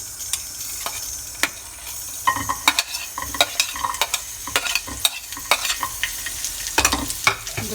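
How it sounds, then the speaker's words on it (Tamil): Raisins fry in a pan for sweet pongal, with a constant close sizzle broken by repeated sharp scraping and clicking stirs, and no voices. "கிஸ்மிஸை வறுத்துக்கலாம்."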